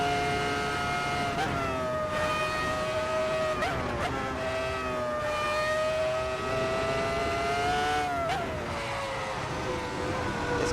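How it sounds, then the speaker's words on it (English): Race car at the Nürburgring driven flat out, its engine wailing at high revs and climbing through gears with brief dips at each shift, loud and continuous from inside the car. "Car just sounds absolutely fantastic."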